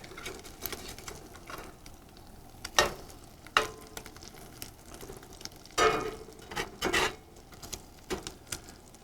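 Eggs frying in a newly seasoned pan on a Coleman Classic two-burner camp stove outdoors on a patio, a faint, soft crackle broken by several brief louder pops and spatters spread across the stretch.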